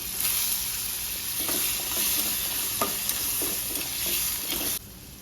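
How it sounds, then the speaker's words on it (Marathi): Broken crab legs sauté in hot oil with red chili powder, a loud, dense, steady sizzle with a few stirring knocks that drops off abruptly near the end, with no talking. "लाल तिखट टाकलं की त्याच्यात हे नांगे मोडून टाकलेले निवडून ठेवलेले टाकायचे आणि ते परतून घ्यायचे चांगले तेलामध्ये."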